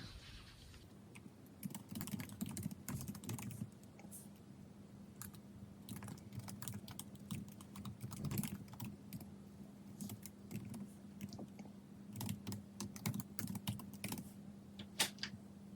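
Definitions being typed on a computer keyboard, quick irregular bursts of close key clicks with short pauses between runs, over a faint steady hum.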